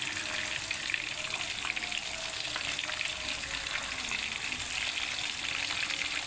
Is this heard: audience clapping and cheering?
no